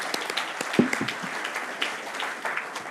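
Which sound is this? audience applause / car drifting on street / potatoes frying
audience applause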